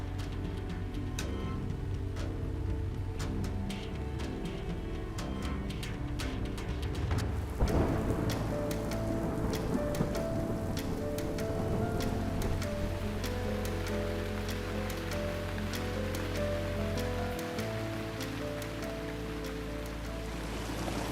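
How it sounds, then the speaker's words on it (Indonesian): Steady rain pours down with a low rumble of thunder rolling underneath, a dense, continuous wash of sound with no voices. "Hujan lagi."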